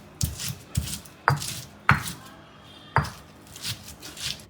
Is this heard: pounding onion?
yes